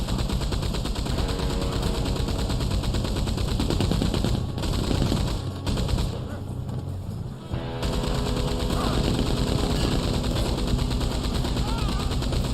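A Maxim-style wagon-mounted machine gun in Red Dead Online fires long, continuous bursts, a dense, loud rattle that briefly pauses before resuming, with talk underneath.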